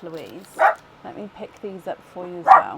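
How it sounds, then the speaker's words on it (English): Dogs at home barking and yipping in short bursts, with a couple of louder barks and some whimpering, heard close by and mixed in with someone speaking. "I'm so sorry that the dogs are being vocal during your opening"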